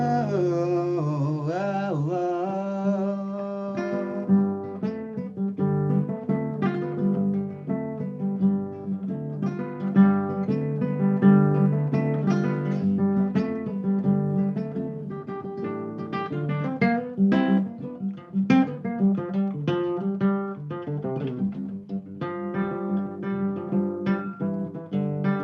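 Traditional Luba-style music in Mixolydian mode plays as steady melodic instrumental lines with a rhythmic pulse, clear and unbroken, with no one talking.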